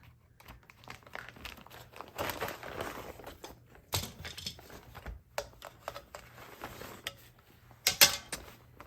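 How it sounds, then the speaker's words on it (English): Stitched embroidery with heat transfer vinyl applique is worked out of its hoop, bringing close crinkling, creaking fabric handling in uneven bursts separated by brief pauses, with a sharper snap near the end. "I'm going to take it out of the hoop."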